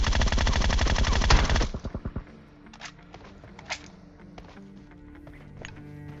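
A rapid automatic gunfire burst rattles nonstop in a battle royale video game, then breaks into a few separate shots. Quieter footsteps and faint distant shots carry on after it.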